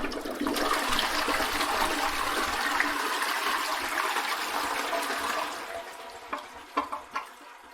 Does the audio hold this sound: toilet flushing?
yes